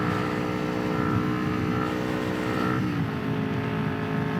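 A 2021 Kawasaki Ninja 400 motorcycle riding in second gear, its engine holding a steady, close buzzing drone that shifts pitch slightly partway through, with no talk.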